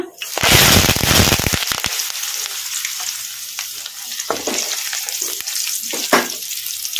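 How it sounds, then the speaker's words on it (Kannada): Crushed garlic and curry leaves hit hot oil with mustard and cumin seeds while making egg pickle, a loud burst of spitting crackle that settles into a steady sizzle with stirring scrapes and pops. "ಈಗ ಇದಕ್ಕೆ ನಾವು ಜಜ್ಜಿ ಇಟ್ಕೊಂಡಿದ್ವಲ್ಲ ಬೆಳ್ಳುಳ್ಳಿ ಕರಿಬೇವು ಹಾಕೋಣ"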